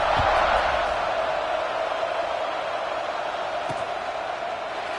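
Stadium crowd in the College Football 26 video game buzzing after a score, a steady, dense roar of many voices held at an even level throughout, with a couple of faint thuds near the start.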